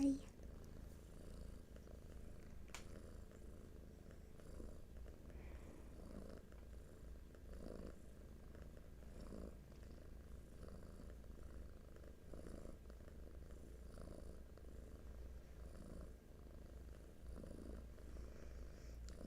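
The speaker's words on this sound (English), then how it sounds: "Yep, very sleepy, cozy kitties." Several sleepy, cozy house cats purring steadily in a continuous low rumble throughout, close and soft, with faint speech-like noises now and then.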